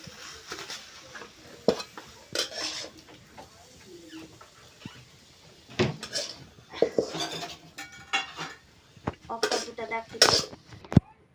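Cooked pumpkin curry being poured out of a pan, with a run of scattered metallic clinks and scrapes of pots and utensils, some sharp and close, amid quieter stretches and a voice talking.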